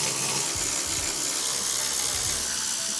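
A ratchet turns torque screws out of a BMW G20 kidney grille, a close run of quick clicking pawl strokes in an irregular rhythm, with no voices.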